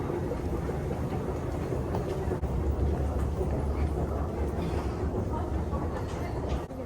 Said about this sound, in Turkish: Metro ortamı da bu şekilde dostlar.